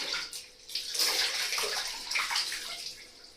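Water splashes and pours as a baby is bathed, uneven close sloshing and trickling with brief louder surges, fairly faint overall and without talk.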